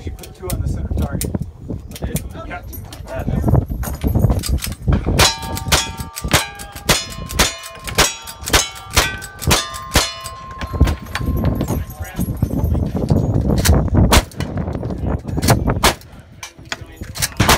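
Cowboy action shooting at a match, a rapid string of gunshots with metallic ringing from steel targets being struck, loud and close, followed by more scattered shots, with people talking and calling out in the background.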